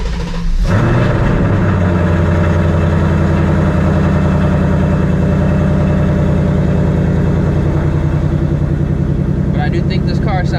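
A Ford S650 Mustang GT V8 with a newly fitted aftermarket exhaust starts up and settles into a loud, deep, rumbling idle close by, steady throughout with no talk over it.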